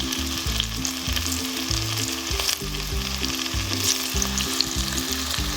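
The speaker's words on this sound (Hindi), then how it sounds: "अब बाकी पकोड़े भी ऐसे ही फ्राई कर लेंगे अच्छे तरीके के साथ।" Cauliflower gobi pakoras deep fry in hot oil, a dense close sizzle and crackle that runs continuously with bubbling pops and occasional stirring, no one speaking.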